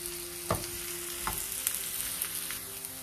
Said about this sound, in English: We will fry these onions till they become little golden brown.